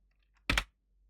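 A single sharp computer mouse click, close and crisp, alone in near silence.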